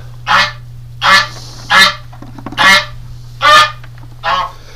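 A goose sitting on its nest honks six times at an even pace, each call loud and close, over a steady low background hum.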